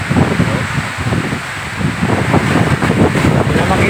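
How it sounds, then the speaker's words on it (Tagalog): Strong typhoon wind roars across the microphone in a constant, buffeting rush, loud and unbroken throughout, during a September 2024 typhoon. "So kasi kay hangin. So grabe ka hapak ang hangin."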